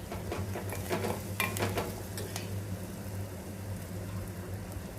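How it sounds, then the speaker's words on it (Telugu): Dosa batter is stirred in a hot pan, with a steady sizzling hiss under repeated scraping strokes of a utensil against the pan, busier early on and settling into a constant fry. "ఆ బ్యాటర్ దీంట్లోకి వేసుకొని కలుపుకుంటూ ఉండాలండి, మిక్స్ చేస్తూనే ఉండాలి"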